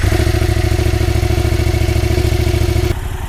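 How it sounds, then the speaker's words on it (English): A Yamaha FZ-07 motorcycle engine runs after a cold start, a loud, steady, close idle with rhythmic mechanical clatter that keeps going until it drops off sharply near the end. "Let's crank it up and get the engine warm so that the oil drains faster"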